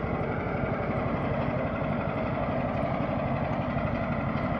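An engine runs at low idle, a continuous loud, even rumble with a fast pulsing throb that holds steady throughout with no talk.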